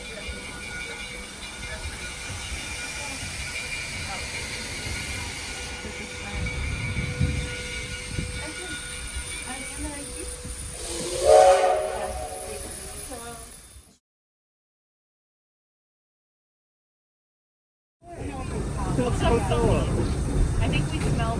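A Black Hills locomotive rumbles past nearby with a steady low roar and a brief horn-like tone, swelling then cutting off before the rumble resumes, with people talking faintly in the background.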